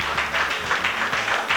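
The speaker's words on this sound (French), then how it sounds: "Mesdames, messieurs, on l'applaudit comme il le mérite." Audience applause for the Congolese guitarist Félix Manuaku Waku at a special broadcast from Lausanne, Switzerland, a steady wash of many hands clapping continuously at moderate loudness, with no voices over it.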